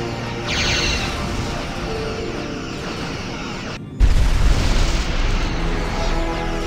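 Weapons fire and heavy booms from a starship battle in the Star Trek Armada II game, loud and continuous, with a sudden hard impact partway through and a dense rumbling barrage after it.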